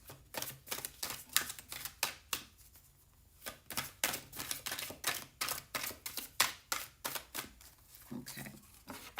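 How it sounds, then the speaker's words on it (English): A deck of playing cards shuffled three times, giving crisp riffling bursts one after another with short pauses between, close and clear with no talking. "I'm going to shuffle 3 times"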